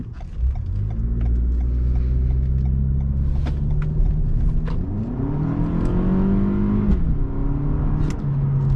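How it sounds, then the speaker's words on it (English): A 2020 Toyota Camry XSE with a 2.5-liter four-cylinder engine accelerating in sport mode, engine tone climbing steadily through gears with rising pitch sweeps, heard from inside the cabin without talk. "put it into sport mode, see how fast we can get up to speed."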